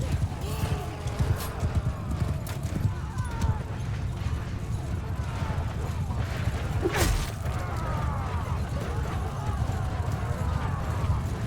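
Horses gallop through a battle in Mount & Blade II Bannerlord, a steady rumble of hooves mixed with clashing combat noise, while a person talks over the game throughout.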